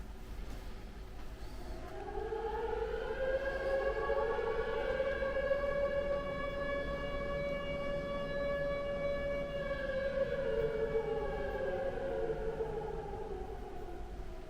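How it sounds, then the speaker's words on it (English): An air raid siren drones steadily, slowly rising to a sustained mournful tone and then sinking away, carrying far and loud with no voices. "I'll never forget the sound of that air raid siren."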